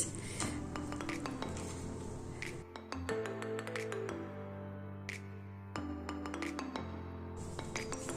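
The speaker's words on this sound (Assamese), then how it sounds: "আলুখিনি মই অলপ অলপ ভাঙি দিছোঁ" Boiled potatoes are broken up in a pot of palak paneer curry, with a utensil clinking and knocking against the pot in a string of sharp, close metallic taps.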